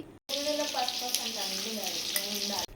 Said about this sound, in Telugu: తర్వాత అల్లం వెల్లిపాయ పేస్ట్ అయితే వేసుకోవాలి.